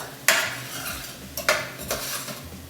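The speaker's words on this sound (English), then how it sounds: "I'm gonna give it a stir." A spoon scrapes and clinks in a pot of salted chana masala, Punjabi dhaba-style chickpeas, giving three sharp metallic strikes spread over a thick wet stir, close and fairly loud with no talking.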